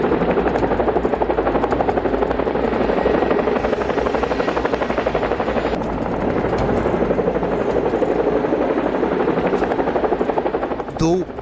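Chinook helicopters roar loudly and continuously nearby in the sky over Britain, their rotors thumping in a rapid, even chop for the whole stretch.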